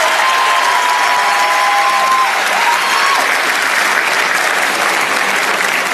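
Loud, dense applause from a hall audience honoring the two creators of a mascot at an official ceremony, continuous and roaring, with a faint whistle-like tone riding over the clapping.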